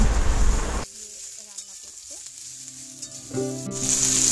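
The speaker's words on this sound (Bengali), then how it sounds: "তো দেখো আমার কিন্তু এই সবজিগুলো প্রায় ভাজা হয়ে গেছে।" Mixed vegetables for Bengali shukto sizzle loudly in a pan for under a second, then the frying drops away to a quiet background with faint tonal sounds before the hiss swells again at the end.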